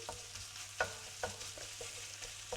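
Spoon stirring sausage and herbs frying in a pan, a few sharp scraping knocks against the pan at irregular intervals over a soft continuous sizzle.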